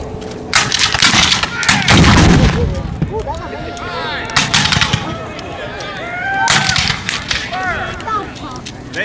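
Civil War reenactors fire musket volleys by company, several sharp ragged blasts with rolling echoes, heard outdoors at a living-history weekend at Fort Adams in Newport, Rhode Island, with a voice talking between volleys.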